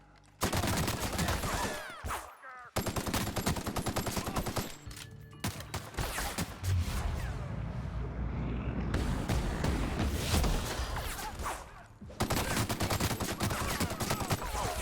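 Rifle fire in the video game The Outer Worlds: loud, sustained rapid shooting with sharp cracks and heavy impacts, broken by a few brief pauses across the battle.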